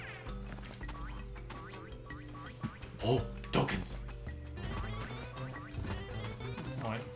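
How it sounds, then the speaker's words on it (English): Seagulls in the video game Pac-Man World 2 squawk in repeated quacky cries over a busy game soundtrack of music and effects, while people talk over it throughout. "Their bouncing sounds like they're saying mine, mine, Mine. They're just seagulls."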